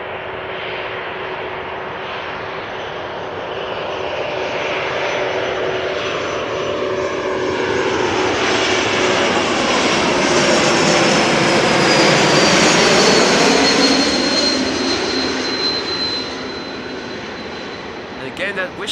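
Airliner passing low on landing approach at Amsterdam Schiphol Airport, engine roar swelling as it nears then fading, with a high steady whistle and sweeping pitch as it goes by overhead.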